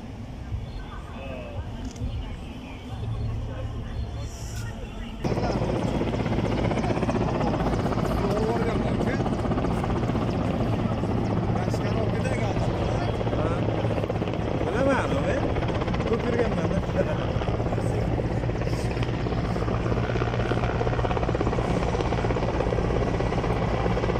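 A helicopter flies over Red Square in Moscow, its loud, steady rotor chop and engine drone filling the air, growing stronger after a few seconds and continuing throughout.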